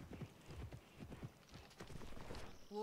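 A horse gallops in a horse-riding video game, quick rhythmic hoofbeats close and fairly quiet, ending with a short whinny.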